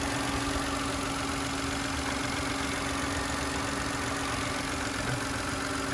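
A 2015 car engine idles steadily with a constant, even mechanical hum and a low rumble throughout, no voices present.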